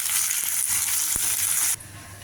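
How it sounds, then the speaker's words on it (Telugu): Green peas stirred into frying capsicum curry give off a bright, close sizzling hiss with a soft stirring knock, then the sizzle cuts off abruptly and leaves a quieter background near the end. "రెడీ పెట్టుకున్న పచ్చి బఠానీ బాగా మిక్స్ చేసుకుని కొద్దిగా మూత పెట్టి మగ్గించుకోవాలి"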